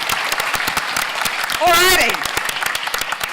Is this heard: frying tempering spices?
no